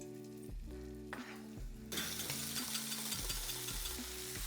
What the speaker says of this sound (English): we're gonna get this last batch of shrimp cooking